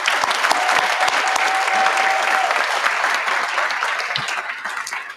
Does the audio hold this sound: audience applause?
yes